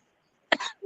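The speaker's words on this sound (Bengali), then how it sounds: "কাশি যে ধরছে 31 তারিখ থেকে, আর ভালো হয় না দেখি" A single sharp cough bursts out of near silence, close and fairly loud, followed by a short breathy tail and the start of another sound.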